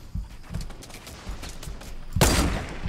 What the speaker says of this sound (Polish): Gościu strzela, jak mnie zobaczy